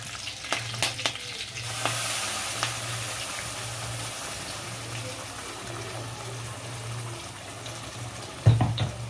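Freshly ground masala hits a hot pan and sizzles steadily, with a spoon stirring and scraping through it, a few close clicks early on and a sharp metallic clank at the end.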